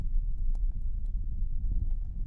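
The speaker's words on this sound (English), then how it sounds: "checked the hooves of his horse, a rangy buckskin gelding" Hooves of a buckskin gelding clip-clop in a steady uneven trot on hard ground, close and moderately loud, with light wind and no voices.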